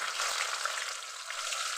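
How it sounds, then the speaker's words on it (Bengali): Onions fry in hot oil with cloves, black pepper and cinnamon for a meat curry, giving a steady, dense close-up sizzle with no pauses and no talking. "পেঁয়াজ দিচ্ছে এবার"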